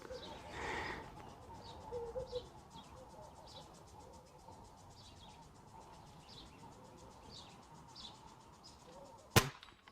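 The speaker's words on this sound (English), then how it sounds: "Love shooting with Springers, these things are awesome." A Weihrauch HW50S .177 spring air rifle fires a JSB slug with one sharp crack near the end, set against steady outdoor background noise and scattered bird calls.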